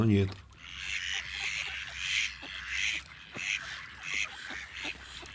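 Several ducks quack repeatedly in rhythmic, raspy bursts nearby, a noisy outdoor chorus with a brief low voice at the start.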